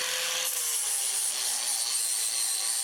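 Small 4-inch sander doing cleanup work on a carved log, a close, continuous high abrasive whine and hiss with a slight downward shift in pitch, steady and loud throughout with no talk.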